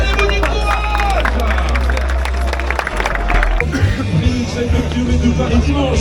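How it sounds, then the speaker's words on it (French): A crowd of runners at the start of the 20 km de Paris race claps and makes noise, a loud dense hubbub of clapping and voices with low rumbling beneath throughout. "faites du bruit, tapez dans les mains, applaudissez-vous"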